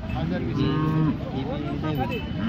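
A cow at a rural cattle market lets out a long, loud moo, then several shorter bellows close by, with no talking.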